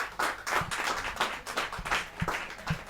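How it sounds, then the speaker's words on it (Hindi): Audience at a Hindi kavi sammelan poetry gathering claps steadily, a dense patter of many hands that stays moderately loud and close throughout, with no voices on top. "क्या तालियां बजे तो ढंग से बजे ना"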